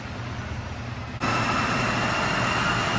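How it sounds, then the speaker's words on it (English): A 2022 Ford F150 engine on a dyno in fifth gear: a steady roar that jumps sharply louder partway through, then holds as a heavy, sustained drone. "we're going to go ahead and try pull in fifth gear just to see how much more RPM we get before hitting the rev limiter"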